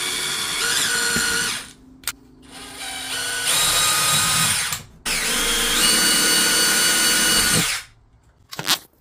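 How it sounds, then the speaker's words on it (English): A power drill bores screw holes for a new RV light fixture in a travel trailer, running in three loud sustained bursts of about two seconds or more, separated by brief pauses and short clicks. "made my points for where I need to drill my holes for the new screw"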